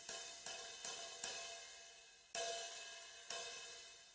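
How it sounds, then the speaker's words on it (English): Open hi-hat cymbals struck by hand, no foot pedal, six hissing sizzling hits in an uneven rhythm, each washing out and decaying before the next, faint and alone. "I'm just going to leave the cymbals nice and sizzly"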